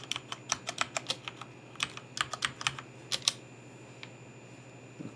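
Password being tapped out on a computer keyboard, a quick run of light clicking keystrokes in short bursts, close and quiet against a faint steady hum.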